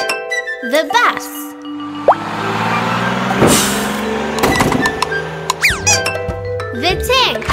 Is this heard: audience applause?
no